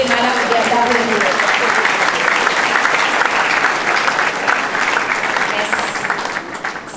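Sustained audience applause for Mme Gerda Brunel at an education event, dense clapping from a large crowd throughout, fading slightly at the end.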